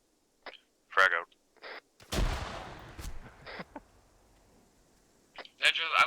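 A frag grenade bursts in the Arma 3 military game, one loud booming blast with a rumbling decay between clipped radio voices.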